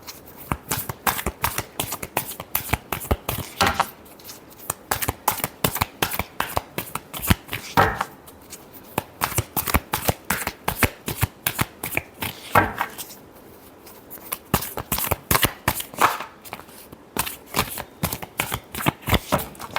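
Tarot cards are shuffled over and over in quick, crisp riffling bursts that follow one another rhythmically with short pauses in between, close to the listener and with no voices.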